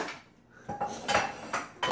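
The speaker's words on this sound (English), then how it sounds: "Megan, are you helping Mama put the dishes away?" Dishes and cutlery being put away in a home kitchen: a few sharp clinks and clatters of plates and silverware at a moderate, close distance, spaced irregularly over a quiet background.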